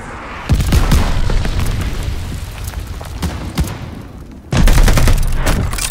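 Explosions and gunfire from a glide bomb strike in Call of Duty: Vanguard, with heavy booms and crackling volleys, a sharp loud blast near the start and another surge of detonations later.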